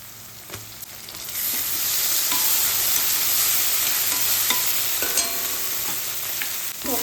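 Chopped tomatoes stirred into a pan of frying vegetable bhaji with green chilli, a continuous loud sizzle that swells as they go in, broken by occasional spoon scrapes and taps against the pan.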